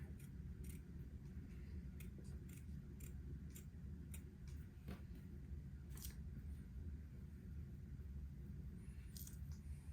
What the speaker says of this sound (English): I need to use my specialty scissors and trim the other entredot seam kind of close to the zigzagging